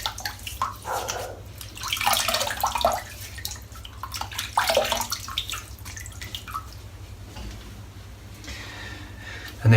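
Tap water runs and splashes in a bathroom sink while a face is wetted for shaving, with broadband gushing in uneven surges and faint drips, close and fairly loud throughout.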